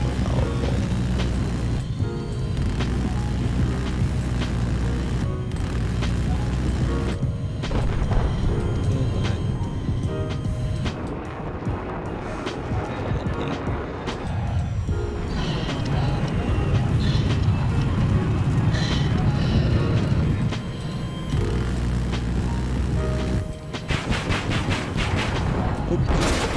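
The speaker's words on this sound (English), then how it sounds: "I guess I can do a bit of a demonstration with, the A-10 Warthog, so again, the cannon on it is super, super powerful." A-10 Warthog cannon fire in Battlefield 4, heavy rapid bursts and booming impacts over a dense roar of jet engine and battle noise, with someone talking throughout.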